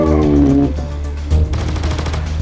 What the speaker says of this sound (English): Oh, wow, it's like a little chain gun.